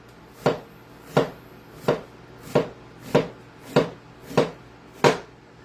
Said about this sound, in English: let's get our thinly sliced onion going here